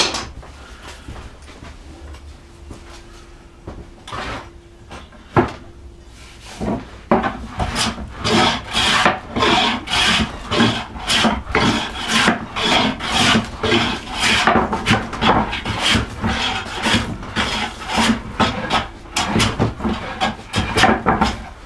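Hand plane taking repeated rhythmic strokes across a wooden board to flatten out wind and bow, loud close scraping rasps in a steady series after a few sparse knocks at the start.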